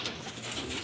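Pigeons coo softly in a brief, low, murmuring call heard close by with faint background hiss.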